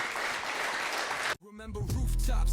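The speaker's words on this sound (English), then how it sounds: "Clap your hands if you're learning something" Audience clapping hands during a motivational talk, a dense, steady burst of many hands lasting over a second before cutting abruptly into music with sung voice.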